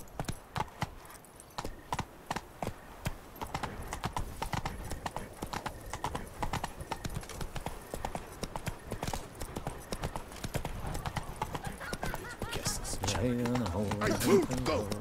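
Horse hooves clip-clop in a steady, rapid rhythm throughout, a galloping mount in the video game The Witcher 3: Wild Hunt, fairly loud and close, with game sounds and speech mixed in and a low rumble building near the end.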